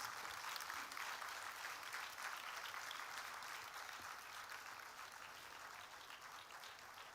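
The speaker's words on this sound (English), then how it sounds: "you can rise up and give a round of applause to your parents" Graduation-ceremony audience at KMCT Medical College applauding parents, a dense, steady wash of clapping from a large crowd that carries on without pause for the whole stretch, fairly distant and even.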